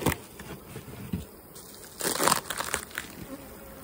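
Honey bees buzz around an open hive during a honey inspection, a steady close insect drone mixed with crackling and crunching sounds as frames and comb are handled.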